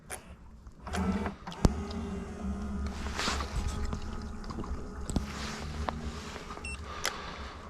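The small motor of a remote-controlled bait boat whirs and hums as it moves across a fishing lake, with occasional clicks and splashes and no talking.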